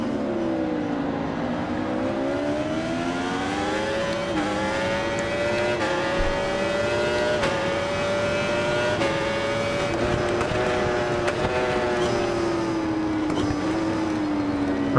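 Yamaha superbike racing in RIDE 4, a loud steady engine note climbing and falling through gear changes, with a continuous high-revving whine filling the whole stretch and no talk over it.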